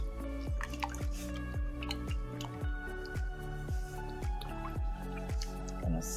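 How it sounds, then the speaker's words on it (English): Coconut cream stirred into squash and collard greens in a pot, giving a steady series of thick, wet squelches and soft drips at close range, with a faint musical background. "Gonna stir that up together."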